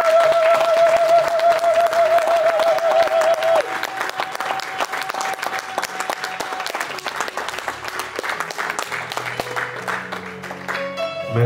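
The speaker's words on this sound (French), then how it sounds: "Une dernière fois, on l'acclame." An audience at a memorial thanksgiving service applauds together in sustained, dense clapping that holds steady throughout, with a faint tone in the background early on.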